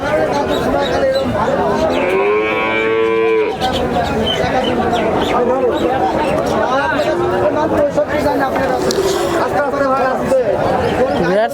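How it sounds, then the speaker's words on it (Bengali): Cows, dairy cows and heifers, moo at a rural cattle market. One long, clear low moo stands out early on, and more lowing follows over constant close chatter and crowd noise. "সার গাভী গরু আছে এবং বকনা গরু আছে"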